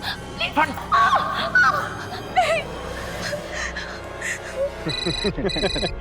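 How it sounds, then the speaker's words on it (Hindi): An electronic phone ringtone trills in repeated bursts near the end, following agitated Hindi voices and some background barking. "फोन आ रहा है।"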